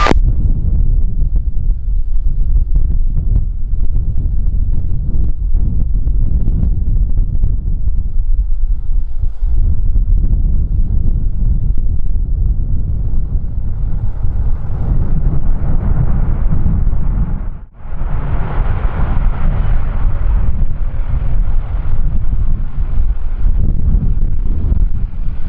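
Strong head wind gusting across the open apron at Kagoshima Airport, a steady low roaring rumble buffeting the microphone for the whole stretch, briefly cutting out once before the blustery noise returns slightly brighter.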